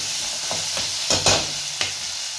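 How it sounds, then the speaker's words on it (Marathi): Tomatoes going into hot oil with browned onion for a Marathi-style peas and potato curry give a steady sizzle, with a few sharper bursts of frying and stirring as the pieces hit the pan. "आता टमाटर टाकून घेऊ. टमाटरला घेऊ तेलामध्ये घेऊ."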